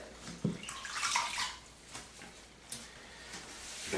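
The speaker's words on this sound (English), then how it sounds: "now what I'm going to do, I'm going to wet my head" Tap water runs quietly while a man wets his head before a shave, splashing softly and unevenly with brief drips and bursts.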